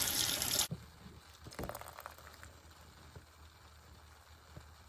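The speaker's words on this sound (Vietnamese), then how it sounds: "Xương mình luộc sơ xong mình rửa lại với nước cho nó sạch." Parboiled bones rinsed under running water in a kitchen, a brief loud gush of water followed by quieter splashing, trickling and handling sounds.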